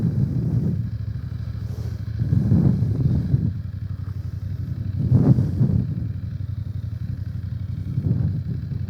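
A BMW F900 GS motorcycle engages first gear and rides off, its engine a steady close low drone with a few swells as it pulls away, rumbling continuously throughout.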